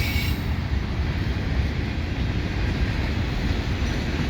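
A CN mixed freight train departing the Turcot holding tracks, a steady low rumble of rolling cars, moderately loud and continuous with no voices.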